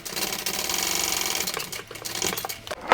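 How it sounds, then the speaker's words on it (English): A sewing machine runs a tote bag seam, its needle chattering in a fast steady rhythm close by, easing off near the end with a few slower stitches and a sharp final clunk. "sew that with the seam allowance given in the pattern"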